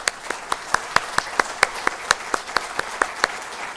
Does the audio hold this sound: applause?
yes